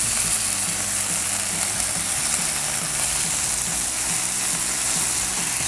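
Bacon strips sizzling on a Blackstone griddle, a loud, dense, continuous hiss and crackle with a faint rhythmic tapping underneath, no talking.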